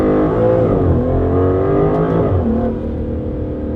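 An Aston Martin DBS Superleggera engine revs hard and climbs in pitch as it accelerates, shifting once, then settles to a lower steady drone, loud and close.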